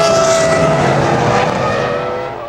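A 2003 Formula 1 car, Fernando Alonso's Renault, with its engine failing: a loud, continuous engine roar, steady and then slowly fading, with no voices.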